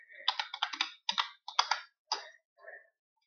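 Rapid bursts of key clicks on a computer keyboard as a file name is typed, several quick clusters of taps with short pauses between, close and clear with no talking.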